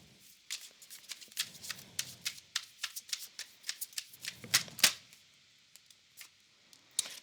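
Tarot cards shuffled by hand, a close rapid run of crisp flicks and riffling slaps that builds over several seconds, then a few scattered taps as the cards settle.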